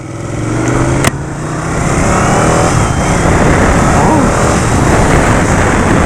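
A 2019 Ducati Panigale 959 sport motorcycle engine drones loudly and steadily close up, rising slightly as it pulls out into traffic, with rushing wind noise throughout.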